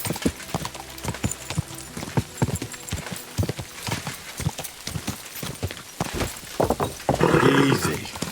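A horse gallops in the video game Kingdom Come Deliverance 2, a steady rhythmic clip-clop of hooves close by, with a snort or whinny near the end and game sounds mixed in.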